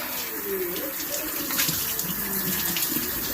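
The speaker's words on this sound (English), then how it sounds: "I'm just scrubbing this out with a little bit of Dawn dish soap, just to cut the grease and the oils" Weed eater parts are scrubbed with Dawn dish soap under water, a steady splashing, running-water rush close by with small sloshes and no pause.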